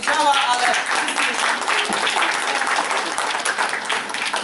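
Audience applause at a bookstore event in Empik Warsaw, a dense burst of clapping sustained for several seconds at close range.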